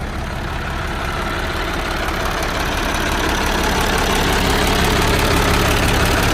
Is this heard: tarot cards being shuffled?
no